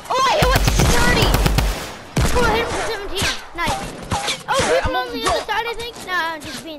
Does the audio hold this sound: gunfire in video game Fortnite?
yes